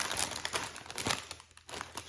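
Close crinkling and crackling of a 125-gram bag of Smoky BBQ Style oven chips being pulled open from the bottom, with irregular rustles and small crunches over about two seconds.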